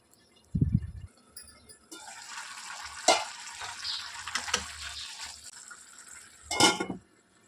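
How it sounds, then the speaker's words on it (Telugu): Cabbage curry being mixed in a pan with a spoon, scraping and clattering stirs against the metal over a soft sizzle, with a couple of louder knocks and bursts of movement. "ఇప్పుడు ఒకసారి బాగా మిక్స్ చేసుకోవాలి."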